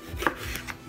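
A knife chops peppers on a cutting board, two or three quick close taps within under a second.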